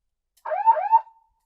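A brief siren from a Land Rover Defender's loudspeaker system gives two quick rising-and-falling whoops, loud and close, then trails off into silence.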